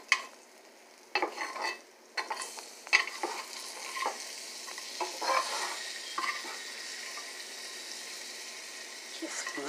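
French toast sizzling in a frying pan, flipped over with scattered scrapes and clatter, a steady frying hiss running throughout at moderate level.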